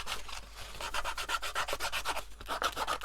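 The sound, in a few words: sanding down a handmade vintage ink box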